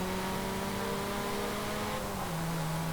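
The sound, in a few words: MG MG7 car accelerating off the line, Forza Horizon 5 video game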